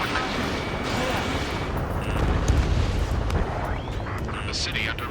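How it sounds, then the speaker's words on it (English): Dense, continuous rumbling combat noise, with gunfire and explosions blended into a loud roaring wall, fills a city under martial law in the video game Ace Combat 7: Skies Unknown. "Gunfire and the roar of jets echoing through the streets"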